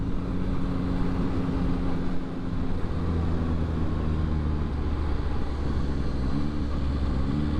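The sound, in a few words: Yamaha XSR900 motorcycle riding on a street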